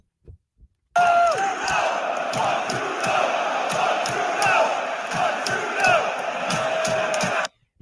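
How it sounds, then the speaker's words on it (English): Basketball crowd in Toronto chanting a repeated rhythmic two-part cheer for a player named Jordan, loud and massed, starting abruptly and cutting off after several seconds. "they're all cheering let's go Jordan"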